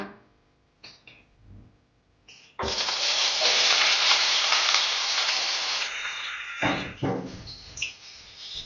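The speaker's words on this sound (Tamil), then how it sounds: "நம்ம வெங்காயம் ஆட் பண்ணிட்டு அதுக்கப்புறம் கருவேப்பிலையும் பச்சை மிளகாயும் ஆட் பண்ணிக்கலாம்" Onions drop into hot oil for a village-style madavai fish curry and sizzle loudly, a sudden steady hiss up close, with a few light clinks of utensils before and after.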